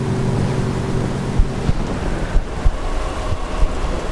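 Ocean surf and wind in a Roblox horror game while a vehicle drives over the sea: a steady, loud rushing wash with occasional low thumps, no talking.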